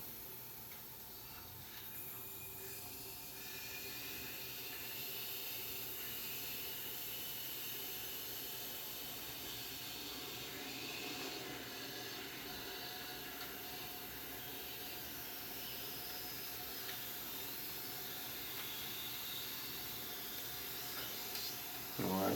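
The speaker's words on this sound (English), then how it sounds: "I'm going to start by opening this cutoff valve and letting the steam get into the radiator." Low-pressure steam flows through an opened cutoff valve into a cast iron radiator, a long steady hiss with faint rumble and occasional soft knocks that holds at low level throughout.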